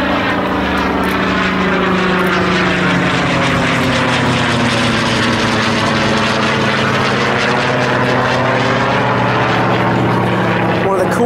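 A WWII Corsair propeller fighter roars loudly overhead at an air show, its engine drone steady and droning throughout with a slowly shifting pitch as it passes.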